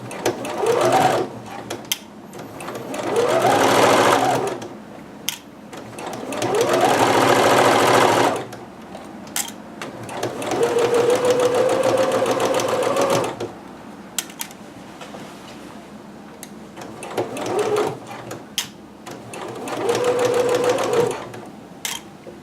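Sewing machine stitching kimono fabric in several separate runs, each a rising, buzzing whir lasting a few seconds, with pauses of quiet handling between bursts and a final short run at the end.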